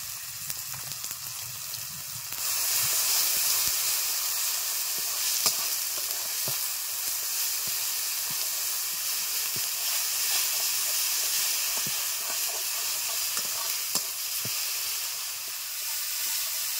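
Ginger paste, salt and turmeric fry in a pan with a steady, loud sizzle and hiss, and a few soft stirring clicks come through. The frying starts quieter and grows fuller after a couple of seconds. No one speaks.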